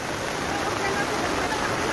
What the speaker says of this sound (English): That's waterfall. Little waterfall.